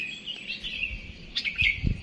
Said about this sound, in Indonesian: dilestarikan burung-burung, masya Allah, termasuk burung berkicau seperti kutilang dan sekitarnya